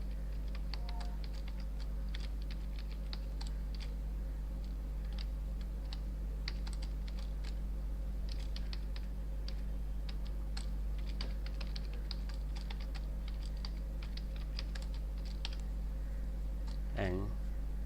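Computer keyboard typing in Notepad, steady soft key clicks scattered across the whole stretch over a constant low electrical hum, fairly close and moderately quiet.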